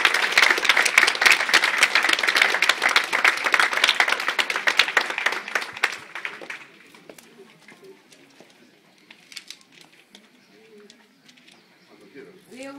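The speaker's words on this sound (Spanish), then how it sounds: "le damos un aplauso a don Julián" Applause from attendees at a village tribute ceremony in Cubillo del Campo, dense for about six seconds, then fading to scattered claps and quiet murmurs with faint voices toward the end.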